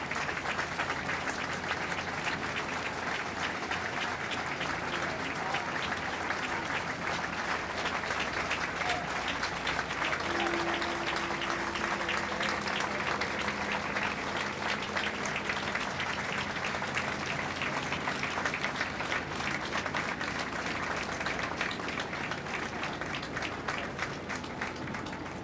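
Sustained crowd applause from thousands of people gathered outside a basilica as a state funeral cortege arrives, a broad, even roar of distant clapping lasting throughout at steady volume.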